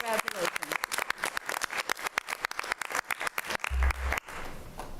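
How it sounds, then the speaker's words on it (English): Applause at a school board meeting, a burst of rapid hand clapping from the audience that mixes with talk and then fades out. "So a big round of applause and congratulations."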